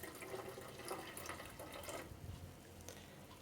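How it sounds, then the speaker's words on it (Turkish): Homemade unripe grape juice being poured from a jar into a jug, a steady close trickling splash of liquid running for a few seconds. "sürahiye boşaltıyorum. Tortu kaçırmamaya dikkat edelim."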